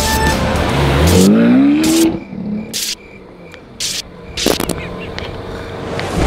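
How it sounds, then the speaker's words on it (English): A fast car roars and accelerates loudly with a rising engine pitch, then tires squeal and skid, followed by quieter scattered clatter and bangs. "So we're gonna have the world's fastest man race the world's fastest car."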